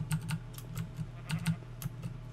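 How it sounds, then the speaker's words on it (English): Rapid, crisp clacks from a clicky computer keyboard in bursts of a few keystrokes at a time, close-up, with short pauses between runs of typing. "I'm using my clicky keyboard"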